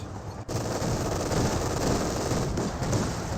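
Sustained autocannon and machine-gun fire from a Company of Heroes 2 battle rattles on loudly and densely for the whole stretch. There is only a brief dip near the start.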